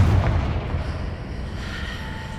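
A Confringo blasting curse explosion in the video game Hogwarts Legacy: one heavy, booming hit at the start that rolls off into a fading rumble.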